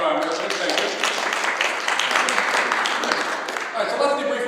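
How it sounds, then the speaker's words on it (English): An audience applauds a guest named Joe at a marketing talk, a dense, steady wash of clapping that fills the room for several seconds and fades slightly at the end. "Round of applause for Joe."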